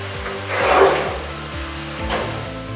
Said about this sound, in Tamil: டைல்களை வெட்ட சரியான கருவிகளை பயன்படுத்தி டைல்களை கவனமாக நீங்க வெட்டுங்க.